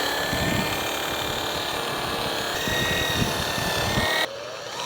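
A grinder running near 1,800 RPM while a 26-ply flannel buff polishes a cast aluminum serving plate, heard as a steady, loud whirring drone throughout, with a slight drop in tone near the end.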